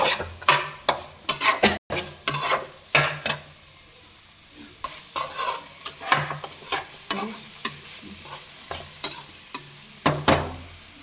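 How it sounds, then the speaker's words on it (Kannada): Okra (lady finger) fries on low-to-medium heat in a pan while a spoon stirs it, giving repeated scraping clinks and soft sizzling in irregular bursts, close and fairly loud. "ಒಂದು ಐದು ನಿಮಿಷ ಸಣ್ಣ ಉರಿಯಲ್ಲಿ ಚೆನ್ನಾಗಿ ಈ ಥರ ಫ್ರೈ ಮಾಡಿ"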